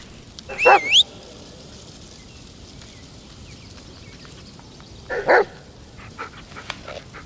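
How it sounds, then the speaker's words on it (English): A dog in the Blair Witch video game barks in two short bursts, one near the start and another about five seconds later, with quiet ambient game sound in between. "Come on, doggy, lead the way."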